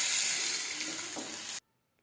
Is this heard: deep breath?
no